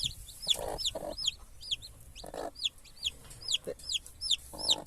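Chickens clucking repeatedly in a farm flock in central Portugal, a steady run of short rhythmic calls at close to moderate distance with no talk.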